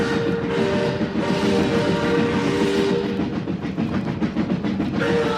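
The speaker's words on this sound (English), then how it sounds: "a violent pulsation as a train roared out of the" A train roars out of a tunnel and past close by, a heavy continuous rumble with rhythmic clattering of wheels on rails, loud and steady throughout.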